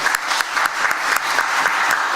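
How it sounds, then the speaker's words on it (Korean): A church congregation at a Sunday Easter worship service claps together, a dense, steady round of applause with an even rhythmic pulse, loud and close, lasting a couple of seconds. "영광의 박수 한번 하도록 하겠습니다."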